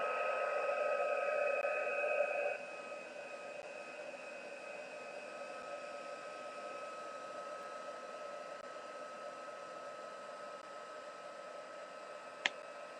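A heat tool warming gold leafing on a fine art floral piece blows a steady, close, airy whoosh throughout, slightly louder for the first couple of seconds, ending with one faint click.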